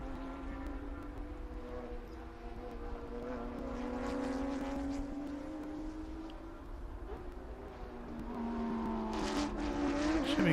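A green and blue Porsche race car works through its final lap at Sebring during historic racing, its engine drone steady and moderately distant, building in pitch and loudness toward the end as it approaches.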